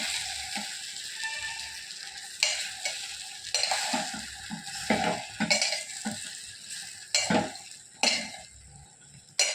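Rava chilli idli is stirred in a hot pan over the stove, with a spoon scraping and clanking against the metal in uneven strokes over a steady, close sizzle of frying.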